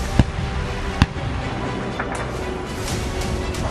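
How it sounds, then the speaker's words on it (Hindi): Two sharp, distant explosions boom during fighting in Kyiv, the first brief and the second a little louder about a second later, over steady low background rumble. "एक और बड़ा धमाका अभी हुआ है"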